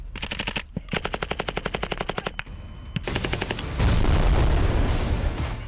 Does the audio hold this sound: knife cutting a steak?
no